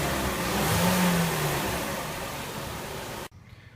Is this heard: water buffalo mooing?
no